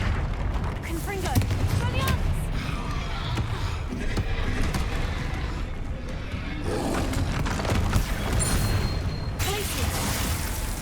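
Explosive Confringo spell blasts go off during combat in Hogwarts Legacy, heavy booms and bursts packed into a continuous, busy mix while a voice talks over the action.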